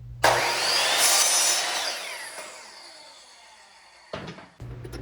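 A power saw whines loudly cutting wooden strips in half, the high buzzing cut fading as the blade slows, followed by a brief second burst of cutting.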